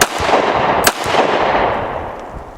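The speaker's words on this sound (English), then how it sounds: "Now I'm going to show how you actually come from concealed on that and fire." A Glock 19 pistol, drawn from concealment, fires a single sharp report at close range, followed by a rushing, echoing decay outdoors.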